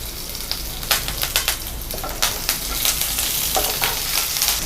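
Onion, curry leaves and green chilli crackle and sizzle in hot oil with mustard seeds, tempering for a red amaranth masiyal; steady close frying hiss with sharp pops and spits scattered throughout, no voices.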